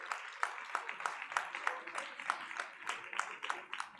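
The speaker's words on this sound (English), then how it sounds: "can we give them a round of applause, please?" Light, scattered clapping from a small audience at a leadership summit during a gift handover, quiet and slightly distant, with individual claps clearly separated rather than merging into a roar.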